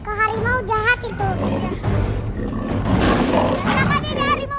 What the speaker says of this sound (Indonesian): Lemparkan lidi ini ke harimau jahat itu.